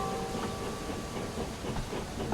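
A steam engine train pulls away from a station, giving a continuous loud hissing rush of steam with faint mechanical clanking underneath, no voices over it.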